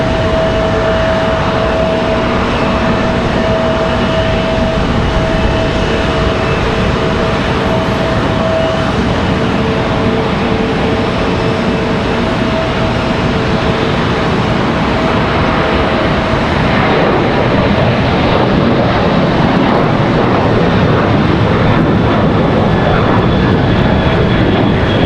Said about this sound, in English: Next departure, off to Kansas City, American Airlines 1619.